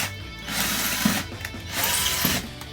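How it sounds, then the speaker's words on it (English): A power drill whirs in two sustained bursts, its motor rising and falling with faint clicks as it bores a hole for a wall anchor close by. "Make a hole with drill."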